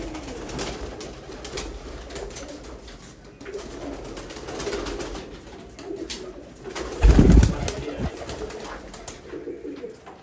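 Low, continuous cooing comes from a large loft of Sialkoti pigeons, many birds overlapping close by, with one loud thump partway through.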